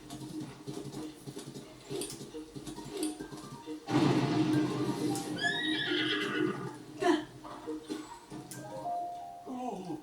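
A horse whinnies loudly in a scene from Zelda: Tears of the Kingdom, with hoof clops and soft game sounds and music around it.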